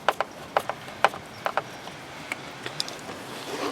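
A screwdriver tightening screws on a leaf blower at an allotment, heard as a series of sharp, close ratcheting clicks spaced irregularly over a quiet outdoor background.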